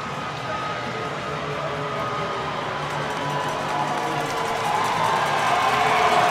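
A hockey arena crowd roars on request, a broad, steady wash of massed noise that swells gradually louder toward the end, with no clear single voice standing out.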